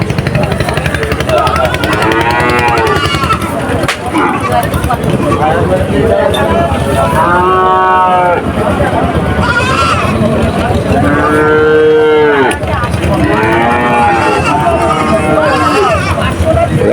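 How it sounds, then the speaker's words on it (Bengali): Cattle low and moo repeatedly at a busy livestock market in Dumuria upazila, Khulna district, with long drawn-out calls rising over constant crowd babble and people talking nearby. "আস্তে আস্তে গরু আসবো।"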